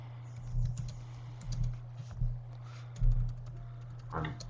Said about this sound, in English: So Joe's just typing.